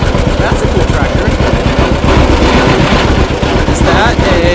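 An antique tractor engine runs loud and close with a steady, rapid low chugging throughout, amid a rough, busy outdoor mix at a tractor show.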